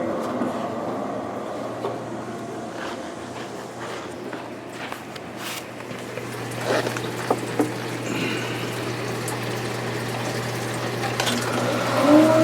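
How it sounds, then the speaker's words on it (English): Water runs steadily into an aquarium tank, a continuous splashing trickle with a low hum underneath, fairly quiet and without voices. "now that the water is filled up enough that it's just barely beginning to spill into the internal overflow"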